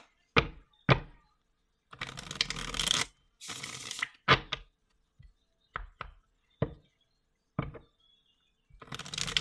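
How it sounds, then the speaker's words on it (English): Tarot cards being shuffled by hand in short bursts of riffling and sliding, several separate rustling runs and crisp taps with quiet gaps between, close and fairly soft. "let me shuffle real quick"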